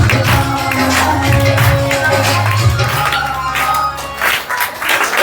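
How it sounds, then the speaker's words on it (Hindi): Crowd clapping at a birthday celebration gathering, continuous applause over sustained music tones, fairly loud and close, fading slightly near the end. "जोरदार तालियों से स्वागत।"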